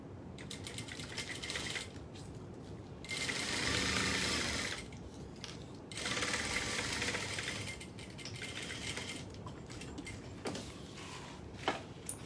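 Bursts of a sewing machine stitching a seam at a 1/2 inch allowance, with ticking, clattering needle runs separated by pauses and handling noises, close up with no talk.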